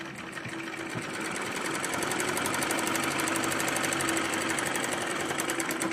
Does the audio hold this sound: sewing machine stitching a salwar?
yes